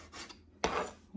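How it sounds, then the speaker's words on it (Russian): A knife slicing tomatoes into small squares on a cutting board for an eggplant salad, giving a soft rasping cut followed by a louder, longer cut, close by with no talk. "дальше мы сюда начинаем резать наши помидоры"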